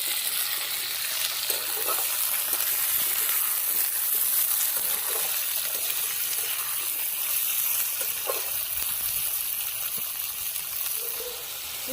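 Egg and potato fry in a pan for cauliflower-stalk chorchori, a steady broadband sizzle running throughout with occasional soft stirring scrapes, close and fairly loud, no talking.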